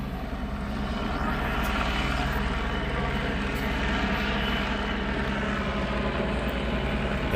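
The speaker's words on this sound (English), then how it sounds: "That helicopter sounds sick." A helicopter that sounds rough or unwell flies overhead, a loud, steady engine and rotor roar that fills the whole stretch without letting up, heard close outdoors at a police perimeter in Tempe.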